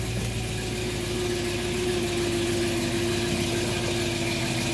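A 1957 Chevrolet Corvette idles close by, its engine holding a steady, even low rumble with a throbbing pulse and no change in pace for the whole stretch, with no voices over it.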